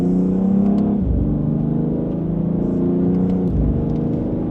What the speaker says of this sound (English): Just a mild acceleration. You can feel that this car just wants to keep going.